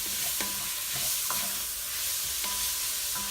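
Onions and peppers are stirred as they fry in a pot for creamy cabbage soup, with several sharp scraping strokes of a utensil against the pot over a steady sizzle.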